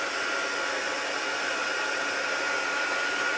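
Heat embossing tool blowing hot air steadily over gold embossing powder on a Stampin' Up! Star of Light papercraft box, a loud, continuous, even whoosh held close with no talking.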